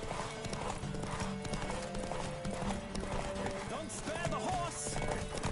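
Hooves pound in a fast gallop from a horse in The Witcher 3 on PS5. The rhythmic clip-clop stays loud and continuous while someone talks over it and other game sounds play.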